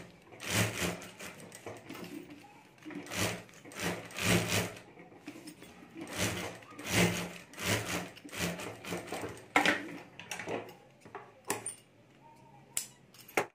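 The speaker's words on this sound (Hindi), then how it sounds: "और अब यहाँ हमें चारों तरफ सिलाई कर देनी है" A sewing machine stitches around a homemade mobile cover, joining its lining and plastic lamination, running in repeated short rhythmic bursts with pauses between them, fairly quiet and close.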